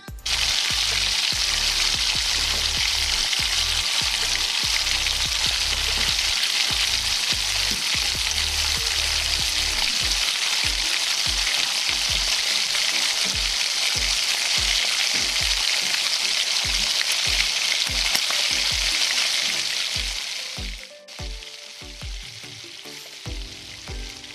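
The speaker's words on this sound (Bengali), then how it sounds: "কড়াইতে পরিমাণ মতো তেল দিয়ে সেদ্ধ করা এঁচোড় আর আলুটাকে ভালো করে ভেজে তুলে রাখলাম" Boiled jackfruit and potato pieces frying in oil in a wok give a loud, continuous close-up sizzle for about twenty seconds, punctuated by regular spatula stirs, then the sizzle drops away abruptly near the end.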